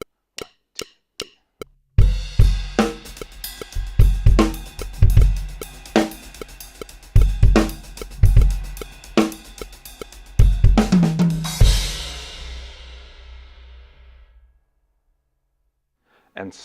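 Drum groove with hi-hat accents outlining a displaced half-note triplet; a few sparse counted hits open it, then a busy, close kit pattern with strong recurring accents rings out and decays at the end.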